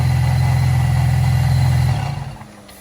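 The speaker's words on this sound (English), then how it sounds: "So now I'll turn the engine on" A supercharged 3.6-litre V6 in a Cadillac CTS idles with a loud, steady low hum, then the engine fades away toward the end.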